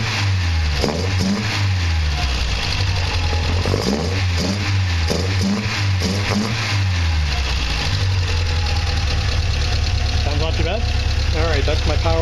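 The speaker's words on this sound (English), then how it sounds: "Here's how the car is idling after my tuning yesterday." A 1960 Triumph TR3A four-cylinder engine fitted with Weber DCOE 42 carburetors idles close by, with a lumpy, throbbing low rumble and several blips of throttle that rise and fall; a voice is heard over it.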